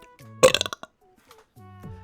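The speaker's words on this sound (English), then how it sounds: "burp." A single loud, close burp rolls out in a short burst of gulping pulses, surrounded by quiet tonal background sound before and after.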